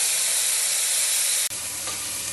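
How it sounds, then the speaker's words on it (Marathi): Mixed vegetables sizzle and fry in a hot pan for a paneer pulao, a steady loud hiss with a brief break and a stir partway through. "थोड्याशा भाज्या परतवून घ्यायच्या आहे आपल्याला."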